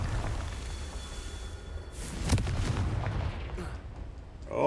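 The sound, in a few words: Confringo spell blast from a video game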